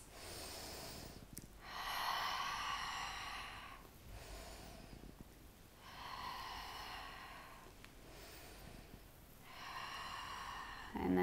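Three rounds of audible open-mouth cleansing exhales during a yin yoga class, each a long breathy whoosh lasting about two seconds, evenly spaced with quiet pauses between, close and fairly soft.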